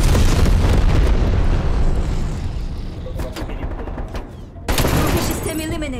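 Napalm strike explosions in Call of Duty: Black Ops Cold War, a loud continuous roar of blasts and gunfire that fades slightly, then swells again with a sudden burst near the end.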